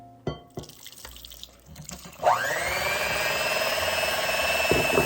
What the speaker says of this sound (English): Actually, I think I'm just gonna go ahead and add my water in here.